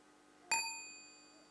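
A meditation bell is struck softly once as a half sound, giving a single clear ding whose bright ringing overtones fade slowly in a quiet room.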